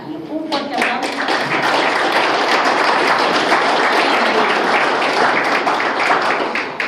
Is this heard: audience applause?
yes